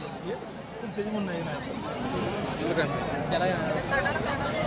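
Goats bleat repeatedly close by amid a busy, noisy crowd at the Vadgaon goat market in Kolhapur district, Maharashtra, with people talking throughout.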